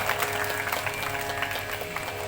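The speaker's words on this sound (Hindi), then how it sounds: "आप लोग ताली बजाइए" Audience applause fills a religious Bhagavat Katha gathering, dense and steady clapping throughout without pause, with no voices rising above it.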